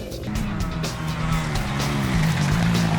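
A 250 four-stroke motocross bike accelerating over the crest of a jump, its engine roaring loud and continuous with a rising pitch and no talk.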